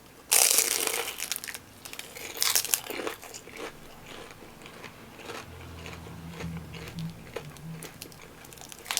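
Crunchy bites into a crispy fried Philly cheesesteak egg roll from a Chinese restaurant, two loud crackling crunches close to the mic followed by quieter chewing, no talking.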